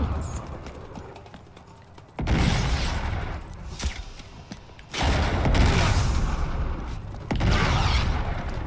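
Grenade blasts in the game Uncharted 3, with three loud broadband bursts at roughly two-second intervals that sustain and roll off, each followed by lingering rumble and debris over a noisy action background.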